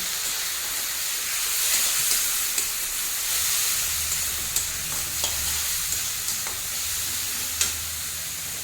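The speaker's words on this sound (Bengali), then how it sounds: "এবার শুটকি মাছটা একটু ভালো করে ভেজে নিতে হবে।" Dried fish (shutki) frying in a pan with ginger-garlic paste, a steady bright sizzle and hiss running throughout with occasional soft clicks of stirring, close and moderately loud, no talking.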